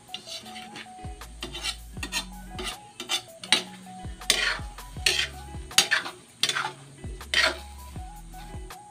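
Laing, a Bicol dish of taro leaves in coconut milk, being stirred in a cooking pot, with repeated scraping and rubbing strokes in an uneven rhythm, close and moderately loud, with no talking.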